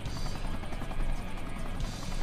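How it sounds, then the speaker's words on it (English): A helicopter in the Sonic Generations video game gives off a steady, loud rotor whir and chop with a buzzing edge, holding continuously from start to end. "Helicopter ride."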